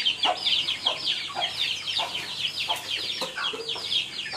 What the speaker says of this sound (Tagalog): So guys, ito na yung ating mga sisyo.